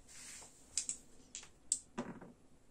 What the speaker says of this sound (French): Tu lances 2d6. Vas-y.